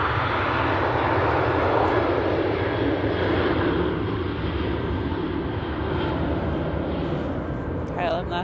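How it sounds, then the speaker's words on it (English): A KLM airliner at Manchester Airport heading for Amsterdam produces a broad, roaring engine rush, loud at first and easing slightly as it moves off, with people talking over it. "KLM there, heading back to Amsterdam."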